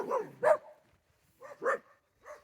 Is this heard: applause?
no